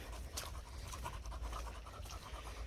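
A tired dog pants steadily on a muddy trail hike, quick soft breaths repeating close by over faint outdoor background noise, with no voices.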